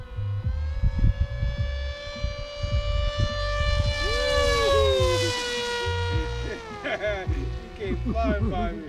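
A Ritewing Drak RC flying wing on a 6S battery screams past at top speed, a loud rising then falling whine as it nears and recedes, with wind noise and people talking nearby.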